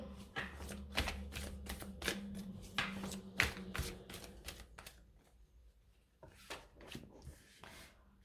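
Tarot cards being shuffled for a reading, giving a run of quick, crisp riffling snaps and slaps close up, with a brief pause before a few more shuffles at the end.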